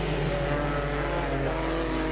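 Stock cars racing around a regional oval track, several engines roaring together in a steady, loud drone with layered rising harmonics as the field pulls away under the green flag.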